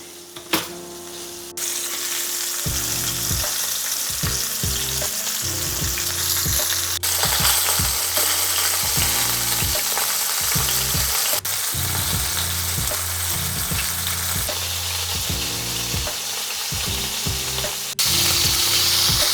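Fish fillets frying in very hot oil give a steady, close sizzle that runs the whole length, broken by repeated rhythmic scraping and clicking, with no voices.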